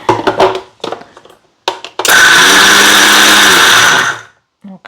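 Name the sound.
mixer grinder grinding tindora chutney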